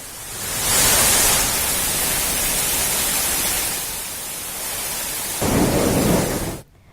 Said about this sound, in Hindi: तेज हवा के साथ हुई बारिश से लोगों को गर्मी की तपिश से राहत मिली